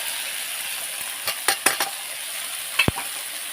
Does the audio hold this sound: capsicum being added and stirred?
yes